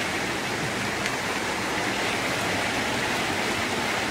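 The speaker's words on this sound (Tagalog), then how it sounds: "Malakas yung agos ng ano ngayon, tubig." Strong river current rushing continuously at a fishing spot, a steady broadband roar of water filling the whole stretch without pause, loud and close, with no voices.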